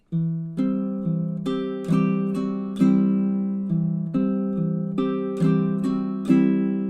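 A baritone ukulele picked fingerstyle plays a steady run of plucked notes and bass tones, each struck note ringing and decaying in an even, close, clear rhythm.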